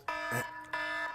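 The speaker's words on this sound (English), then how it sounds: "that's my alarm letting us know our time is up for Fire Talk" A phone or timer alarm signals the end of a timed talk segment, sounding as two loud, ringing electronic tone bursts with a short gap between them.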